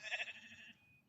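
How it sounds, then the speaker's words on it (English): Sheep bleat a few times up close outdoors beside a riverbank, a wavering nasal call that fades out after about a second. "we're getting stalked by sheep"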